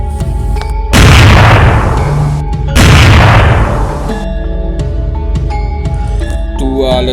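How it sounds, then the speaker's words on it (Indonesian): Two loud, booming shots from a Nantes-made pistol, an audio drama sound effect, each firing off sharply and ringing out in a long decaying echo over a low background bed. "Dua ledakan menggelegar dari tangan Basah Kotip, membuat roboh dua pembunuh"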